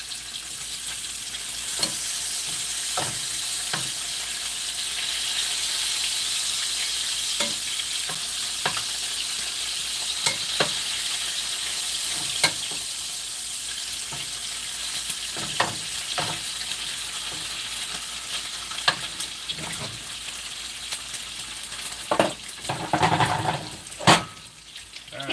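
Bacon frying in a cheap Walmart pan, a continuous crackling sizzle with sharp pops and occasional scrapes and clanks of a turner, close up and without speech.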